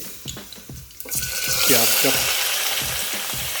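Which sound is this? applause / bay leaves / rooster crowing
bay leaves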